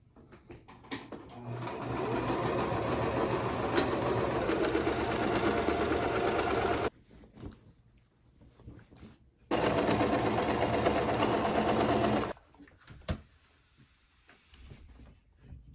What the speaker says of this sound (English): As I start sewing the rows together and they start building and building, the top of the quilt is starting to come together.